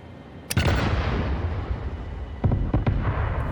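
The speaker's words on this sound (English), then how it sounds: "Let me clear some land. oh boy. Cluster bombs are the best." Cluster bombs detonate while clearing land in Satisfactory: a loud sharp blast followed by a rumbling roll of explosions, then a second volley of two or three close, booming bursts.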